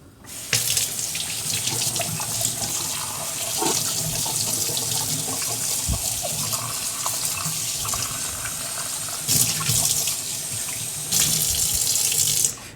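Tap water runs steadily into a sink as vegetables are rinsed beneath it, a close continuous splashing rush with brief louder bursts where the stream hits the produce.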